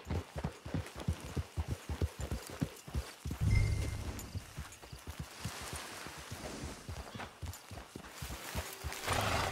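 A horse's hooves beat a steady, close clip-clop rhythm while riding into camp in the Red Dead Redemption 2 video game, with a brief whinny-like snort partway through and a low hum underneath.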